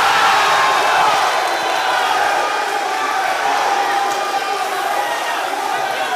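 Audience in a hall applauding contestants at a live university gas-industry quiz contest, a dense, loud wash of clapping mixed with crowd cheering that holds steady throughout.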